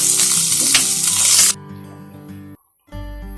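Egg and cauliflower fry in a pan with a loud, bright, steady sizzle that cuts off sharply partway through, leaving a quieter background hum.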